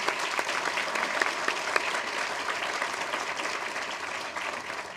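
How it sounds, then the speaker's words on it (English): Steady audience applause for a high school choir, the Clovis East Timberwolves, after the national anthem at a groundbreaking ceremony, a dense wash of clapping that holds evenly from start to finish with no voices over it. "May we also give a round of applause to the Clovis East Timberwolves Choir"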